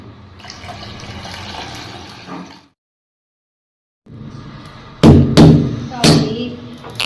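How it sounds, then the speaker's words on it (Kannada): Water pours into a mixer grinder jar holding grated coconut for chutney, a steady splashing stream lasting over two seconds, then a pause and a few loud knocks and clatters as the jar is handled. "ಈಗ ಇದೇ ಮಿಕ್ಸಿ ಜಾರಿಗೆ ಸ್ವಲ್ಪ ನೀರು ಹಾಕಬೇಕು."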